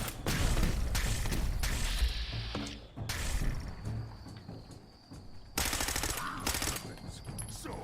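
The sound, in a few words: gamma rifle shots firing in the video game Fallout 4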